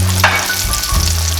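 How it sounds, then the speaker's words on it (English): Chicken breast sizzles and crackles as it deep fries in hot oil, a loud, close bubbling hiss with a low hum running underneath. "Beautiful sizzle."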